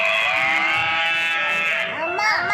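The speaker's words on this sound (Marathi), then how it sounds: "हम्मा आहे." A cow's moo played from an animal-sound toy or recording, a drawn-out tonal low call lasting about two seconds, followed by a short rising tail, heard close with faint background noise.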